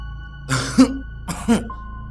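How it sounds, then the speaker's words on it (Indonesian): Two short, harsh coughs sound close by, a dry throaty hack followed by a second after a brief pause. "suara batuk kering yang memekakan telinga"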